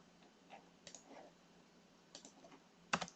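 Quiet computer keyboard typing, a few scattered clusters of key clicks with a sharper burst of keystrokes at the end, alone with no talking.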